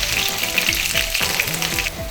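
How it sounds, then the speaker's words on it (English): Chopped onions frying in hot oil in a pan for an African giant snail stew, a dense bright sizzle with crackles throughout and a few stirring scrapes. "I'll just add some onions. So that the onions is turning brown."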